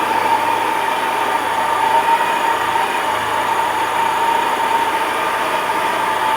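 A Honda Silver Wing scooter engine idles steadily after starting, at a constant, slightly buzzy tone, running smoothly and evenly with no speech.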